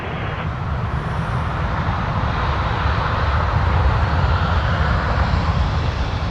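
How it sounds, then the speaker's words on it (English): Ethiopian Airlines Airbus A350-900 jet at Toronto Pearson airport, a steady loud roar of jet engines that holds throughout with a slight swell toward the middle, no voices over it. "We have an A350-900."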